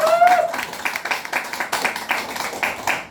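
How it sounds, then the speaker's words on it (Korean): An audience at a laughter-therapy health lecture claps together in a brisk, steady rhythm, the dense slaps loud and close, with a brief vocal sound at the start. "박수 치려면 시원하게 한번 치고 가자고"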